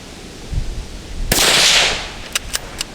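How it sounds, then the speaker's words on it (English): A Marlin 25 MN rifle fires at steel plates 25 yards away: one loud, sharp report with a brief echoing tail, followed by three short, faint metallic pings from the targets hit in quick succession, outdoors with no voices. "So we should be fine to shoot these plates from 25 yards"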